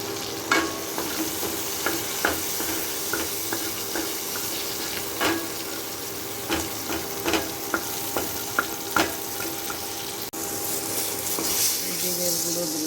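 Shrimp, crushed garlic and red chili frying in hot oil, with a steady sizzle and repeated clicks of a spoon stirring against the pan, close and loud, no talking.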